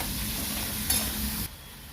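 Tomato and ginger-garlic paste sauté in hot oil in a pan for an ash gourd curry, a close, continuous sizzle with a brief stirring scrape before the hiss drops off abruptly.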